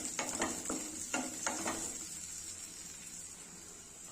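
Onions sizzle gently in about half a tablespoon of oil in a pan, with a few scraping stirs in the first two seconds before the frying settles to a faint, steady hiss.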